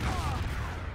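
Grenade blasts in a competitive cup-final match of a team shooter game: a brief, dense, loud wash of explosive noise with overlapping booms, while a caster's voice runs underneath.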